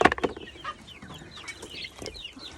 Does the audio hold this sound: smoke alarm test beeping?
no